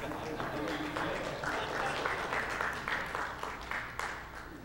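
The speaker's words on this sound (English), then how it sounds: "I hope that applause isn't a confession or anything." Applause from a church congregation during a Baptist sermon, a steady wash of many hands clapping that fills the room at close range for several seconds without letting up.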